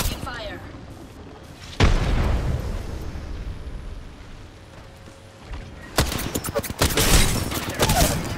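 Gunfire and explosions fill a shooter video game, a continuous rumble of firing with a heavy boom near two seconds and a rapid burst of shots toward the end, with game voices speaking over it.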